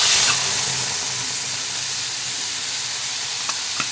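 Salt-and-turmeric marinated shrimp fry in oil in a wok with a loud, dense, continuous sizzle up close, and a couple of faint clicks toward the end.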